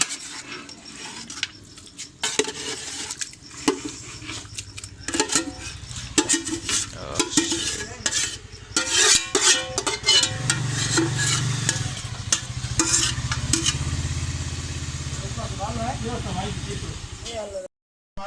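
Cooked meat is added to a pot of khichuri and stirred, giving repeated scraping and clanking of a spoon against the pot over a low sizzle, with someone talking throughout.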